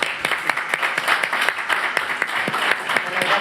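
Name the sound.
audience applause for guest Sara Bertrand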